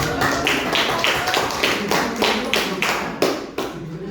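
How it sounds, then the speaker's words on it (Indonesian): A classroom group at an Indonesian university claps in a steady, rhythmic beat, about three sharp claps per second, close and fairly loud for several seconds. "Kita berikan tepuk tangan dulu supaya semangat."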